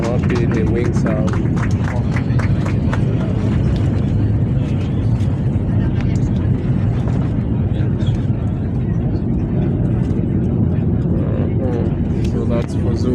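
An airliner rolls down the runway just after touchdown at Fuzuli International Airport in Azerbaijan, giving a loud, steady broadband roar of engines and rumbling wheels. The noise runs unbroken throughout, with voices faintly under it.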